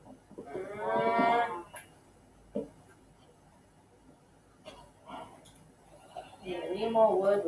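Cows in the video game Minecraft moo in two loud, drawn-out calls, one near the start and one at the end, with a few faint clicks and thuds in the quiet gap between them.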